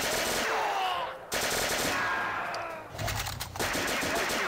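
Rapid automatic gunfire from an SCG in the first-person shooter Castle Totenkopf, loud bursts filling the foreground with brief breaks between them, with no talking.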